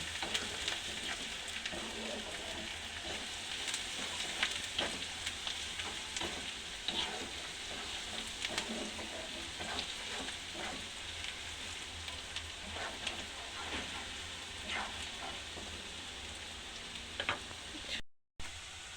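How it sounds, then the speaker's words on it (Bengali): Steady, close sizzling of food frying in a pan while making mini Mughlai, a continuous crackle and hiss with occasional sharper pops, carrying on alone before cutting out briefly near the end. "ভালোভাবে ভেজে নেব।"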